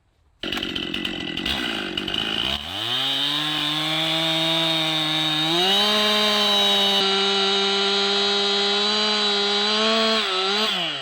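A chainsaw bores its bar tip through the face notch of a tree being felled, running loud and close in one continuous cut, its pitch dipping and then rising as the chain bites into the wood.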